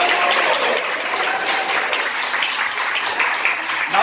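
Children give a steady round of applause throughout, dense and even, with a few voices faintly underneath.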